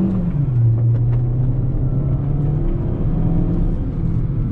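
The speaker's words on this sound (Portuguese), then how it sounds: "Vou fazer uma frenagem e dar uma aceleradinha." A 2020 Caoa Chery Tiggo 7 T 1.5 SUV accelerates, its engine a steady, loud rumbling drone with a rising tone, heard from inside the cabin with no talk over it.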